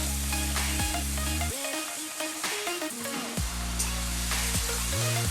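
Potatoes and a paste of poppy seeds, green chilli and dried chilli fry in a pan, a continuous close sizzle broken by repeated stirring and scraping strokes, with no voices.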